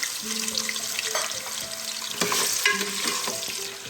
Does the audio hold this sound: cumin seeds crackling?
yes